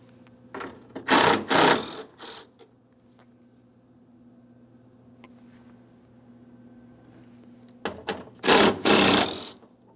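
A power tool works on car door mounting bolts on a 2003-2008 Toyota during a front window regulator replacement, two loud close whirring bursts separated by a quiet humming stretch.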